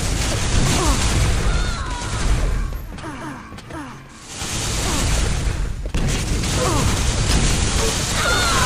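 Rocket launcher blasts and crashing impacts in a Quake team deathmatch video game, dense loud bursts of game action with a brief lull in the middle.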